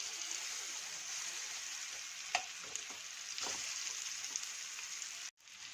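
A rice flour snack fries in oil in a pan, giving a continuous sizzle with a few clicks and scrapes as it is turned over, then a brief dropout near the end.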